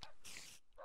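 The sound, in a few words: dogs barking in the video game Minecraft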